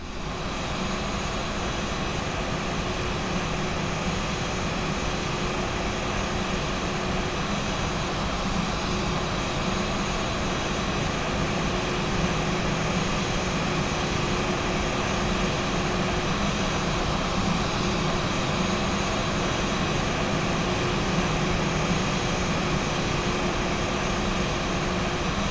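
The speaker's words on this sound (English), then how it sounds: "All right, we're still taxiing down to runway 35 left." Flight Factor A320 airliner engines idling steadily while taxiing in the X-Plane 11 flight simulator, a constant broadband turbine roar with a faint tonal whine, unchanging and close for the whole stretch with no talk.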